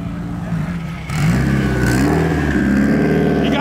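A Subaru with a hood exit, its engine rumbling at idle and then revving up at about one second into a louder, rising throaty drone that holds strong, heard up close.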